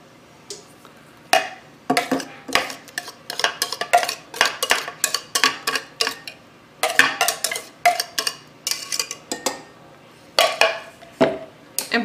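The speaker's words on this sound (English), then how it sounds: "I'm going to blend that in there now" A utensil blends sour cream into banana bread batter in a bowl, with a rapid, irregular series of clinks and scrapes in bursts, fairly close and alone.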